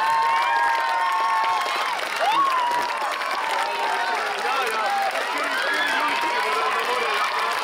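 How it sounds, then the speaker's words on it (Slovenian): A lively crowd at a school freshman initiation event cheers, shouts and claps continuously at close range, with excited voices and whistles rising over a dense, steady roar. "Ajde, navijači, dajte glas. Dajmo. Ajde, velik aplaus"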